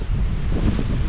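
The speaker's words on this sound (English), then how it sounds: "this is a windy spot" Steady coastal wind roaring and buffeting against the microphone in Ålesund, Norway, a low rumbling gust with no voices.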